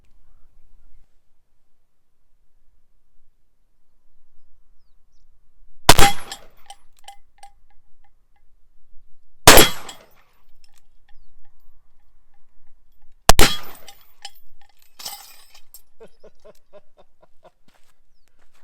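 A Taurus 627 Tracker .357 Magnum revolver, held by hand without a rest and fired in single action, gives three loud, sharp shots several seconds apart, each with a brief ringing tail, with near silence between them.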